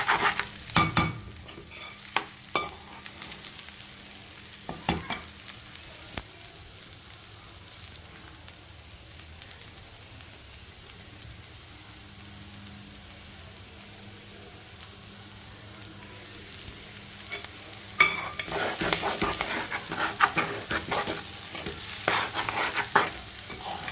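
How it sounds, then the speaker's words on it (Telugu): Mixed biryani masala being stirred and fried in oil, for a biryani with small onions, chicken, mutton and prawns. Close, intermittent spoon scrapes over a steady sizzle, with busier stirring bursts near the start and again toward the end, no talking. "చూసారా ఆయిల్ అంతా బయటకు వచ్చేస్తుంది, ఏగినట్టుంది బాగా"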